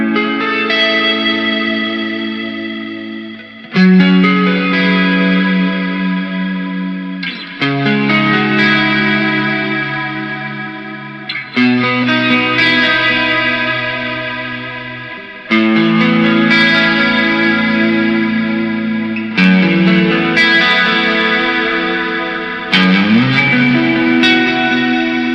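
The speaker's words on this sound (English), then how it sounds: "Combined together with the delay effect, chorus will make your guitar tone sound very heavenly." Electric guitar played through chorus and delay effects: sustained, shimmering chords rung out about every four seconds, each swelling with echoing repeats and a wide, wavering wash, loud and alone.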